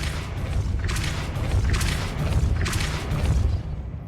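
A Depulso spell impact in Hogwarts Legacy, a loud low boom rolling on with rumbling, thudding mechanical rattles over a few seconds.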